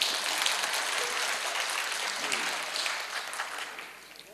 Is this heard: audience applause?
yes